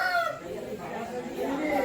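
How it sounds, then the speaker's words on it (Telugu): At a rooster farm, roosters crow and cluck close by in a brief burst, one drawn-out crow followed by softer clucking, with a voice speaking faintly underneath. "అన్ని జాతులకు సంబంధించిన అన్ని పుంజులు అన్ని రకాల పుంజులు కూడా ఉన్నాయి"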